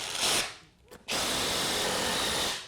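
A power drill drives a screw into 2x3 lumber framing for a wall, a loud, close, sustained whir that briefly dips and then surges again at full speed.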